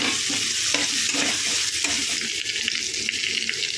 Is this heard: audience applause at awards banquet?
no